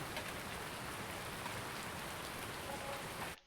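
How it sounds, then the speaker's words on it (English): Rainfall in the video game Farming Simulator 19, a dense, even hiss of drops on surfaces that holds steady and loud, then cuts off abruptly at the very end. "Once we hit, oh, it's raining."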